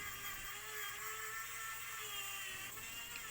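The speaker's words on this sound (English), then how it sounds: "So I carved my own Phillips head into the screw with my Dremel tool." A Dremel rotary tool cutting a Phillips slot into a screw head, a steady high-pitched whir that holds for the whole stretch with a faint low hum beneath, no voices.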